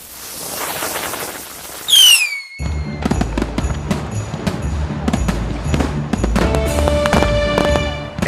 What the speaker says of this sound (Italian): i prodotti pirotecnici, i cosiddetti botti di Capodanno